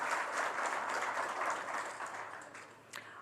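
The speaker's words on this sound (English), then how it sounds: "let's have a huge round of applause" Applause from a conference audience in a hotel ballroom, a fairly faint, steady patter of clapping that tapers off slightly toward the end.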